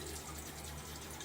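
Water runs steadily to wet a Silvertip shaving brush by Frank, a continuous close splashing rush of liquid with no voices.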